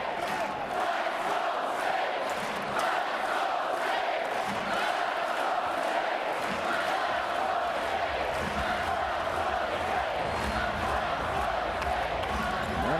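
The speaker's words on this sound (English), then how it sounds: "The crowd yelling, "Let's go State."" Basketball crowd chanting "Let's go State" during an Iowa State versus Iowa women's game, a dense, continuous arena roar of many voices sustained throughout without a break.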